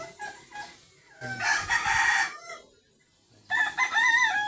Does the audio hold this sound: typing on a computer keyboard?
no